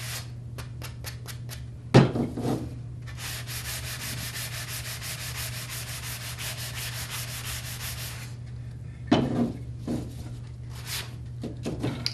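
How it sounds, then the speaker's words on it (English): Wood is sanded by hand in short bursts of rapid, rhythmic back-and-forth scraping strokes, close and clear, with a couple of knocks as the piece is handled between passes. "Hold it and sand it."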